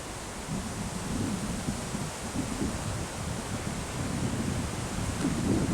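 Wind gusting through old trees on an autumn day in South Holmwood, a steady broadband roar that swells and eases without pause, loud and close with no voices.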